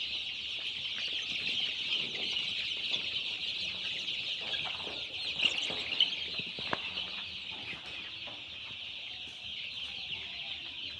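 Eight-day-old chicks on a poultry farm, a dense, continuous chorus of high cheeping and soft clucking from a large flock, steady throughout with a few louder peeps, no talk.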